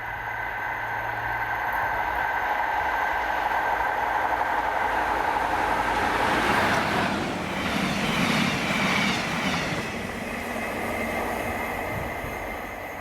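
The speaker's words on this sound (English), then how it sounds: "it was 1B16, 2302 Caledonian Sleeper, Aberdeen to Edinburgh Waverley portion of it with" The Caledonian Sleeper's Aberdeen to Edinburgh Waverley portion, hauled by locomotive 73971, passes at Monifeith. A steady rumble builds to a louder rolling roar midway, then eases as the train moves on, with no voices.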